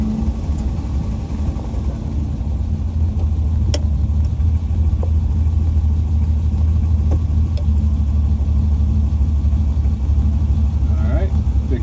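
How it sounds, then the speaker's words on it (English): A 1967 Ferrari 330 GTC with a front-mounted V12 and five-speed rear transaxle rumbles steadily while driving through downtown Boca, a loud, even low drone with faint scattered clicks and knocks. "V12 in the front, has a 5-speed transaxle in the rear."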